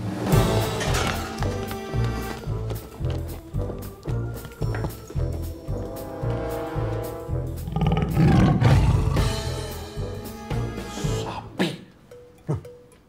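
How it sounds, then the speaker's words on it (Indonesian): A striped tiger roars loudly and close in an office room in a comedy film, a long series of deep rumbling growls and roars that swells, then trails off near the end. "ada harimau loreng di ruangan komisar"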